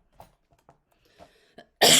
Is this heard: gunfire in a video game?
no